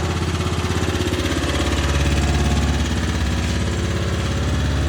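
A 2024 Arctic Cat ZR120 youth snowmobile engine idles steadily up close, a loud, even mechanical putter with a regular pulsing rhythm and no talk over it.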